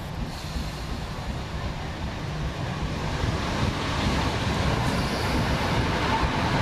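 A First ScotRail Class 318 electric train at Glasgow High Street station in Glasgow gives a steady, broad rumble that swells slightly toward the end, with wind buffeting the microphone throughout.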